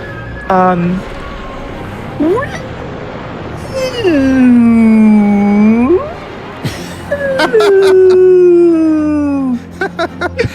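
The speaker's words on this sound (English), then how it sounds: "I think this might be a whale noise." A whale calls in the underwater game ABZU: long, loud, sweeping moans that glide up and down in several separate phrases over a low ambient bed.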